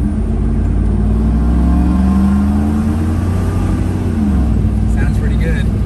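A 2UZ-swapped 80 series Land Cruiser driving off-road, its engine droning loud and close throughout with shifting low rumble as it moves over rough ground.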